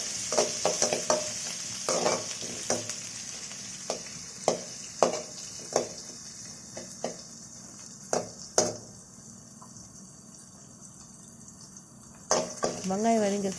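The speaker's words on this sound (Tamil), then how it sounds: "வெங்காயத்தை கொஞ்சம் நல்லா வதக்கலாம்." Onions sauté in a pan for a pea kurma, a soft sizzle running underneath while a spoon stirs and scrapes in sharp intermittent clicks against the vessel, with a brief voice near the end.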